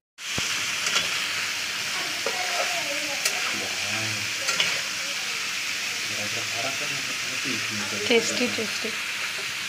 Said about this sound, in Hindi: पनीर फ्राई।